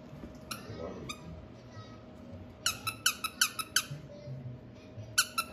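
A squeaky pet toy squeezed in quick bursts, several sharp squeaks in a rapid run and more near the end, fairly close in a quiet home with a few soft background voices.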